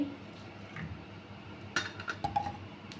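A spoon stirs ground cumin, chilli, turmeric and coriander powder into water in a bowl, mostly quiet with a few light metallic clinks and taps clustered near the end, close by.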